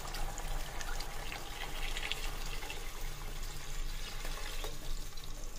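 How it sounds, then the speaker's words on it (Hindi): Five cups of water poured into soaked rice in a pot, a steady faint splashing and trickling stream that continues without pause and without speech. "अब मैं इसके अंदर ऐड करूंगा पांच कप पानी"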